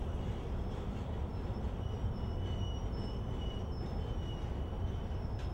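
A steady, continuous rumble of a train rolling past, with faint high metallic squeals from the wheels riding over the low roar.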